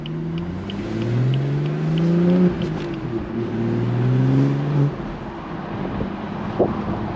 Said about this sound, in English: we got some burbles going on, some burble action.